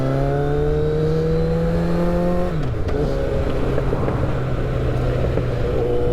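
A moped or motorcycle engine hums steadily while riding, its pitch holding then dropping sharply as the rider eases off, loud and close with constant wind rush.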